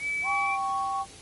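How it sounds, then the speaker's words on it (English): Steam engine whistle from the Wonders of Sodor railway video game, a steady chord-like tone lasting about a second, loud and clear with no talking over it. "Alright, let's hear the whistle."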